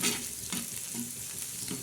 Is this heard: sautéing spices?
yes